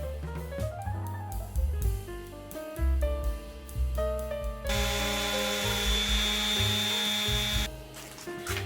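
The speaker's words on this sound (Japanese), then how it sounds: "あとはサンダーに120番のペーパーをつけて一気に形を出しますよ。" A power sander fitted with 120-grit paper grinds at a handmade wooden cup to shape it. It gives a continuous loud abrasive whir with shifting motor tones, a harsher stretch midway and no talking.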